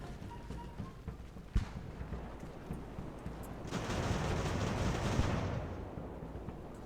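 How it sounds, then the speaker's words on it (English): A musket volley from fusiliers with Ferguson rifles in Ultimate Admiral: Age of Sail rolls out as a faint, distant crackling rumble lasting a couple of seconds, preceded by a single soft pop over quiet battlefield ambience. "Five kills with that volley."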